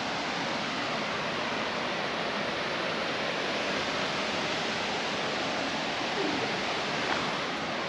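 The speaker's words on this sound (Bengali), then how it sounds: "পুরো ঝর্ণার জল যেটা পড়ছে আর কি, এত জোরে আওয়াজ হচ্ছে" Snow-fed mountain waterfall in North Sikkim between Lachung and Zero Point, a constant, loud, broadband roar of falling water that stays even throughout, with no voices.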